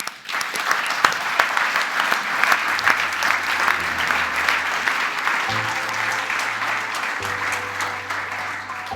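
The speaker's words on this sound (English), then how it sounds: "Please give another applause for the full team who did that" A conference audience claps for a team, sustained dense applause with a few sharp close claps, steady for nine seconds as a low electronic hum comes and goes underneath, no speech.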